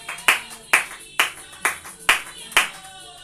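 Church congregation clapping in unison during worship, six sharp, evenly spaced claps about half a second apart, moderately loud and close with a faint hum of the room behind.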